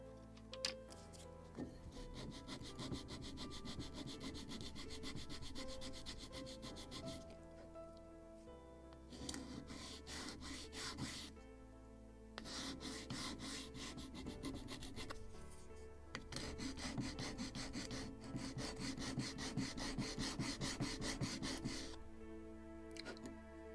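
A sanding block rubs back and forth over small wooden seat parts from a Model Shipways kit of the 1776 gunboat Philadelphia, giving bursts of rasping strokes separated by brief pauses, close and steady.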